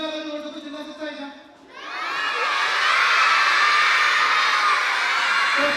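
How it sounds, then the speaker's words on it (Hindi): A crowd of children shouting as loudly as they can, a sustained, dense, high-pitched yell from many voices close by, following a brief stretch of an adult speaking beforehand. "सबसे पहले चिल्लाना चाहिए, जितना जोर से चिल्ला सकते हैं।"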